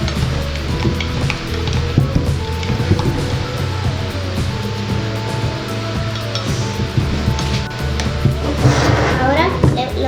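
Slime mixture being beaten with a spoon in a bowl, a steady wet stirring and squelching that runs continuously throughout, with a voice talking over it.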